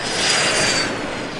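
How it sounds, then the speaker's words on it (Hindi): A private jet passes overhead, giving a steady, broad airy roar that swells slightly and then eases off over a moment, with no voices. "आसमान में एक प्राइवेट जेट उड़ते देखा"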